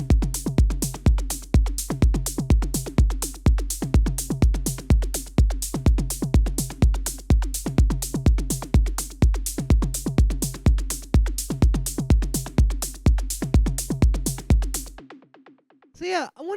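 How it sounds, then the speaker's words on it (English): Melodic techno drum loop: a steady four-on-the-floor kick with tight hats and percussion, loud and alone, running evenly before cutting out near the end. "how to make melodic techno drums that sound something like this"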